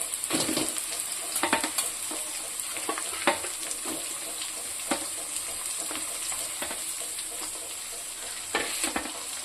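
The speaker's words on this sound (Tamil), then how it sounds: "வெங்காயம் போட்டுக்கலாம்." Onions frying in hot oil in a pan, a steady bright sizzle with occasional scraping stirs and clinks, close and even throughout, no talk.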